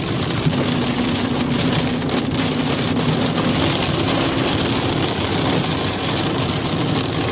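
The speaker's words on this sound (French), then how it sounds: "Bon, je crois qu'on va traverser l'orage." Steady rain drums on a vehicle driving through a thunderstorm in Tornado Alley, USA, while an engine rumbles underneath, a dense continuous wash of noise with no voices.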